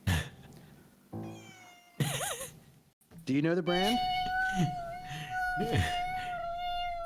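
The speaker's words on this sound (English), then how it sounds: "Cat's playing and singing." A cat meows in several drawn-out, wavering cries between bursts of close conversation, with a sustained tone lingering under the later meows.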